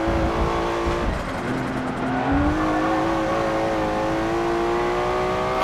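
A Nissan GT-R R34 in Forza Motorsport 7 pulling hard under acceleration, its turbocharged engine note climbing steadily in a loud sustained drone with a brief dip near a gear change.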